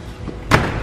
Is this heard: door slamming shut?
yes